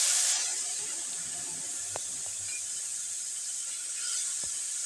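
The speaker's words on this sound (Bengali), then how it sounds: "এবার দিয়ে দেব কড়াইতে।" A mustard and poppy seed spice paste goes into a hot kadai and starts frying, with a sudden, steady hiss that keeps going under a couple of faint clinks.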